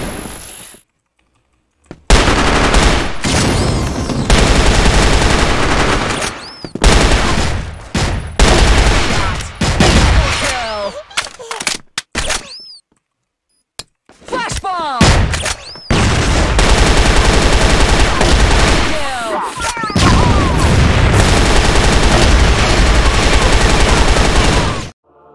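Rapid gunfire in CrossFire: long, loud, nearly continuous automatic bursts broken by a few short silences, with keyboard clicks and other weapon sounds mixed in.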